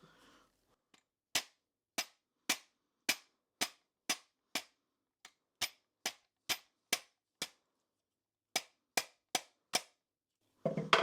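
Sharp, metallic taps on the end of a SOCOM suppressor mounted on an upside-down rifle ring out about seventeen times in quick, fairly even bursts, with a short pause partway through, loud and close against near silence.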